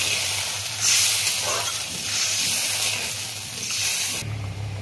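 Water poured into a hot pan of mustard hilsa curry hisses in a loud, steady steam rush that swells once and holds for several seconds before cutting off abruptly near the end, with no one talking.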